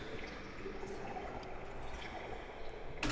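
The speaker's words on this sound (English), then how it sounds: "So we've got a sound of water that I recorded." Recorded water with a low, faint, continuous trickling and bubbling texture, dripping softly throughout.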